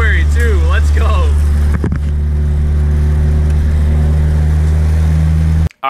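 A turbocharged Honda B18C car drives on the road, its engine droning loud and steady from inside the cabin, with a few rising whine sweeps early on and a brief pause near the end.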